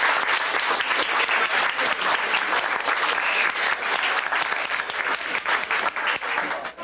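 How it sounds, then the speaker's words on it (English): A crowd claps in a dense, sustained round of applause, steady and fairly loud throughout. "Let's give you a round of applause for that."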